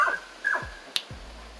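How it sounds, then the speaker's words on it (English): A dog in the background gives a few short yelps or whines, two rising cries followed by two sharp clicks, faint and brief against a quiet room. "you have to excuse the dog in the background"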